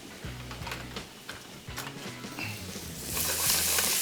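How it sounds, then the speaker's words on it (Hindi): Two spoonfuls of chopped garlic fry in a pan with a soft, continuous sizzle, punctuated by repeated low clunks and taps of a utensil stirring against the pan, rising slightly at the end. "और सबसे पहले इसको करेंगे फ्राई।"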